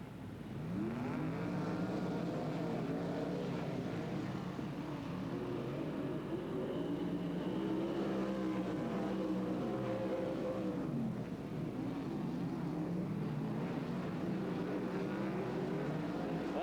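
A pack of 410 sprint cars races on the dirt oval at Silver Dollar Speedway in Chico, California, in 1996, their engines roaring and revving in overlapping waves that rise and fall as the cars pass, a steady loud blur with no talk.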